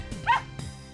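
A single short yip from a dog in a video game, a bright bark followed by a faint second yelp, close and clear with no talking over it.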